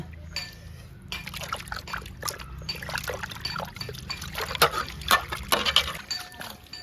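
Water is poured and trickles over fish as it is washed, with splashes and clinks of dishes close by. The liquid sounds grow louder and more irregular over about seven seconds, and a voice is faintly heard at times.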